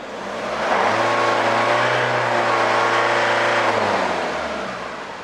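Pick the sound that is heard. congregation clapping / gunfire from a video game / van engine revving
van engine revving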